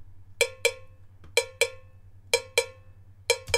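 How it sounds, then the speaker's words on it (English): Two cowbells layered together in a reggae beat, bright double strokes repeating in a steady pattern with a softer tick between, over a low pulsing bass. "So the two together sound like this."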